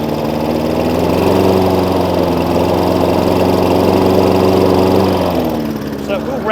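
Hayter Ranger 53 lawn mower engine running steadily but failing to reach full revs, a loud close droning hum with a slight bubbly unevenness, easing off briefly toward the end.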